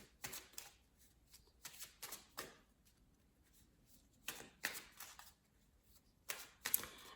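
Oracle cards shuffled in short, soft riffling bursts, close but quiet, with pauses between handfuls.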